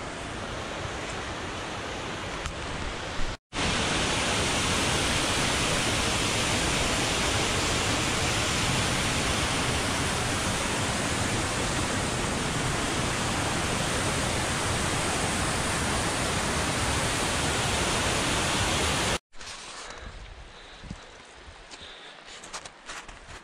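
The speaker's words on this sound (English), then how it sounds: "Lovely river." A river near the Matterhorn at Zermatt rushes loud and close in a dense, unbroken roar for about fifteen seconds, bracketed by quieter outdoor ambience with a brief break near the start.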